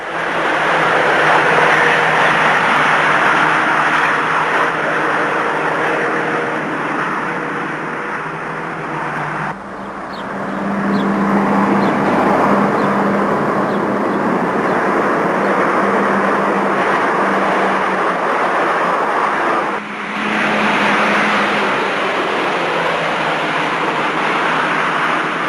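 1985 GTI hot hatchbacks running flat out around the banked Montlhéry ring, a loud steady engine and road roar that drops briefly twice as cars pass, with no speech.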